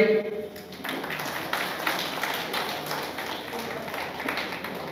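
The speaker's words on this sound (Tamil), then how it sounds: "அனைவரும் கையை தட்டுங்கள் ஒரு முறை" Audience clapping hands at an astrology talk, a soft, fairly distant patter of applause that starts after a moment and continues steadily, with some voice-like sound mixed in.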